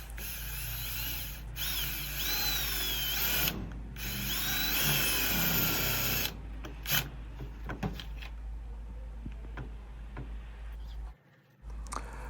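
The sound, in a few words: power drill drilling a hole in wood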